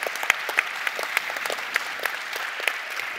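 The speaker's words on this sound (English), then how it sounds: "Please give them a warm round of applause." Audience applause for a conference panel at an international astronautical congress session, a steady mass of clapping with a few sharper claps standing out, continuous and moderately loud throughout with no voices over it.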